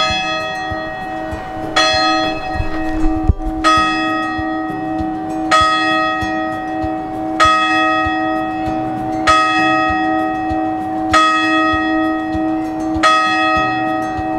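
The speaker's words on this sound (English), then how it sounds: "just in time for the bells to be ringing" Church bells ring at Stoke D'Abernon church in Surrey at eleven in the morning, a sustained pealing with bright strikes landing roughly every two seconds over a steady resonant hum, loud and clear with no talking.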